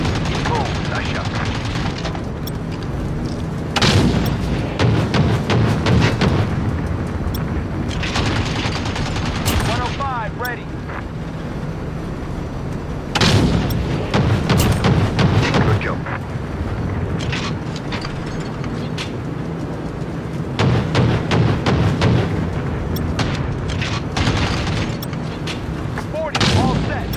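In Call of Duty: Modern Warfare, a 105mm gunship cannon fires in heavy booming shots spaced several seconds apart, each followed by a rumbling blast and debris, under a constant aircraft drone with radio voices talking in between.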